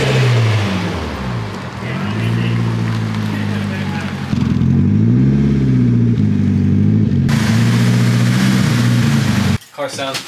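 A Nissan S14 with an SR20 engine revs loudly and up close, the note climbing and falling through several throttle blips over a continuous rumble before it cuts off abruptly near the end.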